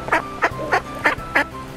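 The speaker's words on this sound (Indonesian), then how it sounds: "Tuh, ada bebek juga." Five quick nasal quacks from a duck, evenly spaced and close by, clear above a quiet background.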